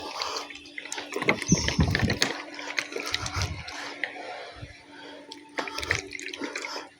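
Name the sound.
stirring water for pigeons with medicine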